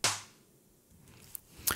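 A sharp snare drum hit from a melodic techno track, with a bright crack, followed by a quiet decaying reverb tail and a couple of softer hits.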